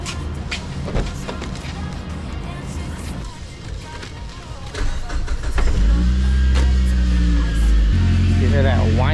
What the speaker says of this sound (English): let me give this car a good start, and you can hear how the vehicle sounds.